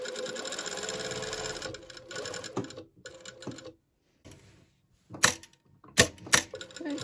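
Serger stitching the outside leg seam of pajama pants, a steady mechanical whir for the first seconds, then short bursts with pauses and a few sharper clicks as the fabric is turned.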